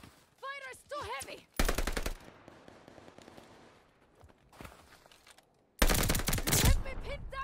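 Heavy machine gun fire in the video game Red Star, two loud rapid sustained bursts separated by quieter stretches, with shouted voices and whistling chirps in between.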